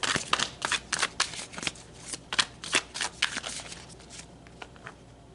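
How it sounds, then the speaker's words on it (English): Tarot cards being shuffled: quick, crisp riffling flutters in irregular bursts, close and fairly quiet, with no talk over them. "let's pull some more cards"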